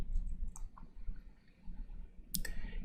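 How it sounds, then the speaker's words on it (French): A single sharp computer mouse click near the end, pressing an Add Wi-Fi button on a web setup page, heard alone over a low background hum. "je clique sur Add Wi-Fi"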